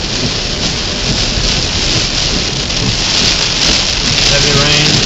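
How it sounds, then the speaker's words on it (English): Heavy rain pours down during a thunderstorm chase near North Lake in Irving, Texas, a loud, steady dense hiss that holds constant throughout with no pauses. "Putting down some heavy rain."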